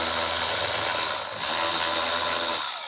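Powered driver backing out a 7 mm screw from a Jeep Wrangler dash panel, a loud continuous whirring buzz lasting a few seconds, close by, with no talking.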